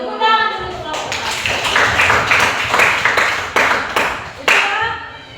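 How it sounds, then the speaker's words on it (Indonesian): A group of students in a classroom claps for a presenting group, a burst of hand claps with sharp taps standing out over ongoing voices and chatter. "Tepuk tangan dulu kelompok 1."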